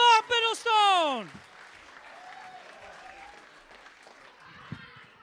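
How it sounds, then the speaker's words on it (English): Comedy club crowd applauding to welcome comedian Mark Bittlestone onstage at The Blackout, with a brief loud voiced shout at the start, then a steady, moderate wash of clapping that holds evenly to the end. "Can we get the applause going? Please welcome Mark Bittlestone."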